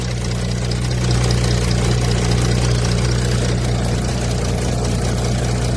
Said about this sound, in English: with the car idling.